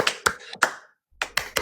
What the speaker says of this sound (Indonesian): Tepuk tangan untuk para narasumber kita.